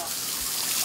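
Water sprays steadily onto an Asian elephant in a zoo shower stall on a hot Korean summer day, a continuous broad hissing rush without a break.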